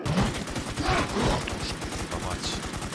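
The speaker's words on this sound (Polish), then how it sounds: "No, tak się strzela, drogie dzieci" Rapid automatic gunfire in the online zombie survival shooter Infestation: The New Z, a dense rattling burst running throughout the moment at loud, close level.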